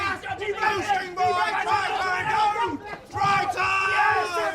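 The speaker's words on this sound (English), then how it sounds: "The crowd goes sick!" A dense crowd cheers and yells at a rugby league football match, a loud sustained roar of many voices with whoops and shouts rising and falling, briefly dipping before surging again.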